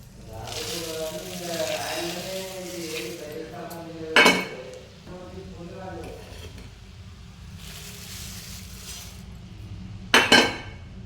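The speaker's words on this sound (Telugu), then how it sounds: "ఇందులో మురుమురాలు వేసుకుందాం" Puffed rice tipped into a fried mixture in a pan, giving a soft rustling sizzle with two sharp clinks of utensil against metal. A voice talks over it.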